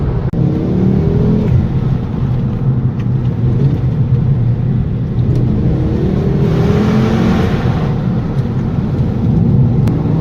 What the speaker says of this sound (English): that noise, that 5-cylinder noise